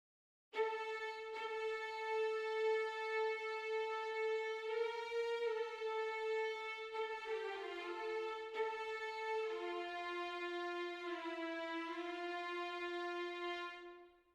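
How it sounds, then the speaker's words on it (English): Second violins carry the alto line of a cinematic string arrangement, a sustained bowed melody that holds long notes and slides gently between pitches, loud and alone for about fourteen seconds. "The second line that we need is the alto line, usually played by violins 2"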